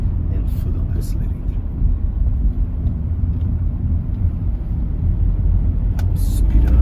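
A car idling and pulling away as the accelerator is pressed, a continuous low engine rumble heard from inside the cabin, loud and steady throughout.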